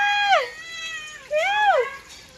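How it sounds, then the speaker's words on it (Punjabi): A cat gives two drawn-out, rising-and-falling meows close by, the second starting about a second after the first fades, with nothing else in between. "ਮਿਆਓ ਮਿਆਓ"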